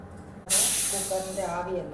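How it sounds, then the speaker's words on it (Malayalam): Steam hisses loudly and steadily from a pressure cooker of jackfruit and lentils, starting abruptly and continuing close by as a voice talks over the release. "കുക്കറിൻ്റെ ആവിയെല്ലാം പോയി നമുക്കൊന്ന് തുറന്നു നോക്കാം"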